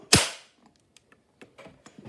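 A sharp, loud snap of a toy cap gun firing once, followed by faint clicks and small rattling handling noises.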